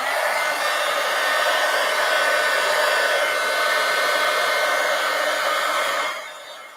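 A hair dryer blows a steady, loud, close whoosh over thickly applied wet paint during an inking and painting session, running continuously before cutting off at the end, with no talk.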